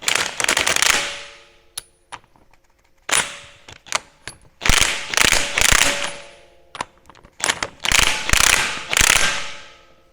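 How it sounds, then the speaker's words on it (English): A ratchet tightens a nut during an NP205 transfer case install on a 1980 Chevy truck, with loud close bursts of rapid clicking separated by short pauses and single clicks. "we'll take this nut down."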